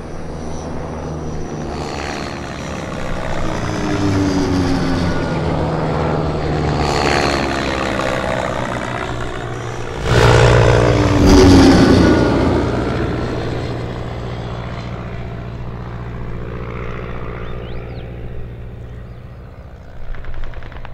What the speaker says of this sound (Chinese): 鬼子的飞机来了